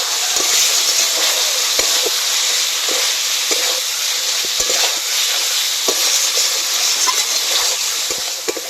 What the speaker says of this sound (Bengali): আলু দিয়ে মশলার সঙ্গে ভালো করে কষে নেব